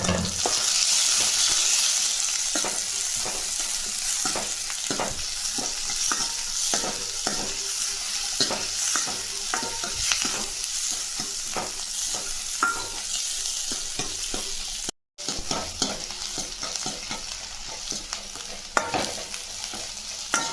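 Small shallots and dried red chillies sautéing in oil in a kadai for a tomato chutney: a steady close sizzle with frequent rhythmic scrapes of the stirring spoon, and a momentary break partway through.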